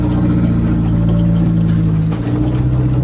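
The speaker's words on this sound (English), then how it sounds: "the Turbo Aries wagon has no trouble pulling all this stuff." Close, loud, steady low engine drone from a Turbo Aries wagon pulling a loaded trailer, a heavy rumble with a constant hum that dips slightly near the end.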